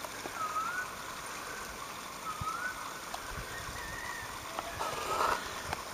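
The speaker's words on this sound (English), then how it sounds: "There's little waterfalls and things." Small waterfalls in Quart Pot Creek make a soft, steady rushing trickle, faint and distant, with occasional bird chirps above it and no talk.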